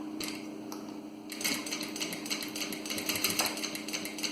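A sewing machine fitted with a teflon presser foot topstitches along the edge of a bag strap, running in a steady close mechanical rattle that picks up speed partway through, with no talk.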